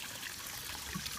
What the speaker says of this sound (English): the recycled rainwater comes in from the roof, down the gutter, into the basin